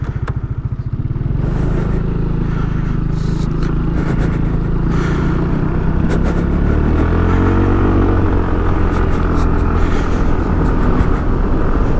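A Honda motorcycle engine cranks briefly, catches and settles into a steady, loud idle, close by, with a slight rise in pitch partway through as it runs on alone.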